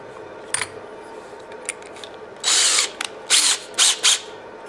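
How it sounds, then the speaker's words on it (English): A hand drill bores a counterbore hole into a wooden board for a screw head: several short bursts of whirring and grinding, the longest about half a second, separated by quiet pauses with small clicks. "I would drill a hole big enough for the head of the screw"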